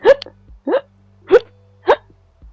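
A voice imitates hiccups with four sharp, close, evenly spaced vocal hics over about two seconds, each a short squeaky gulp with quiet pauses between.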